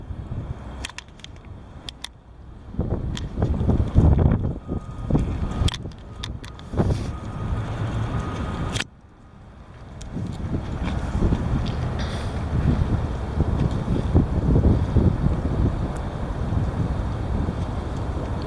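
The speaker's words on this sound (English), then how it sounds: "The heavy wind." Heavy wind roaring and buffeting against the microphone in loud, uneven gusts, with a brief drop in the middle before a steady rumbling blast resumes.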